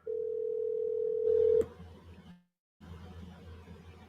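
A steady telephone dial tone hums for about a second and a half, then cuts off, followed by low background noise and a brief silence.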